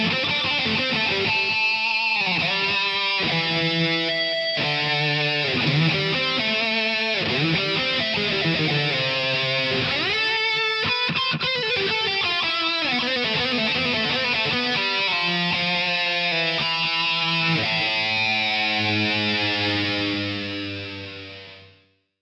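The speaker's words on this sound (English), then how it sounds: "It has active electronics that boost the gain of the pickups for additional drive and distortion" Electric guitar with active pickups whose boosted gain adds drive, played with heavy distortion: a sustained run of chords and notes, loud and close, with no talking, fading out at the end.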